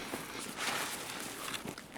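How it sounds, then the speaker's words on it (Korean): Quick, light footsteps pattering in a first-person shooter like Escape from Tarkov, on the Factory map: rapid, faint steps heard in short bursts against a dull game background. "발소리 바로 따닥따닥 발소리, 발소리."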